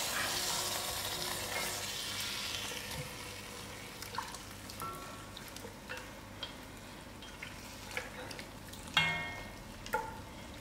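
Pork trotters frying in a pot for a slow-cooked curry, a continuous close sizzle with scattered pops and a few clinks of utensils, no talking.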